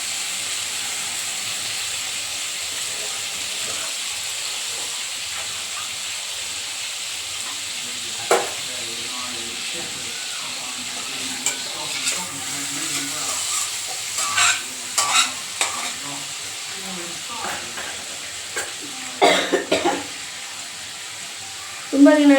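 Paneer pieces frying in oil in a pan, a continuous close hiss and sizzle with intermittent stirring clinks and scrapes growing more frequent toward the end.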